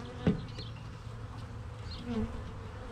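A low, steady insect buzz from honey bees being installed in a queen-right starter hive hums throughout, with brief louder swells as one passes close.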